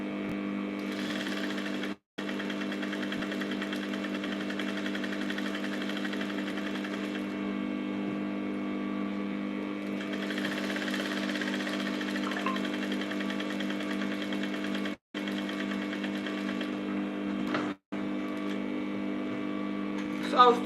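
Sewing machine stitching the remaining parts of an overbust bustier, a steady continuous mechanical whir with a few brief pauses, loud and close throughout.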